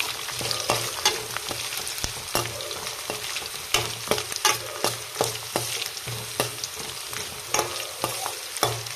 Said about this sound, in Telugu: ఇక్కడ మనం ఫ్లేమ్ అనేది మీడియం ఫ్లేమ్లో పెట్టుకొని ఇవన్నీ ఫ్రై చేసుకోవాలండి